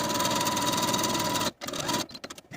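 A sewing machine sews a long gathering stitch around a pajama shorts leg ruffle, running steadily and close for a second and a half, then halting, with a short burst and a few scattered clicks afterward.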